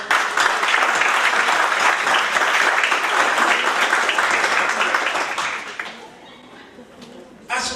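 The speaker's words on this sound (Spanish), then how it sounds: "vamos a darnos un fuerte aplauso a todos" A large audience at an international human rights and constitutional law congress breaks into loud, sustained applause, a dense wash of clapping that fades and dies out near the end, leaving a few scattered claps.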